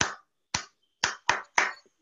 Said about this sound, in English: Let's clap for Gabriel.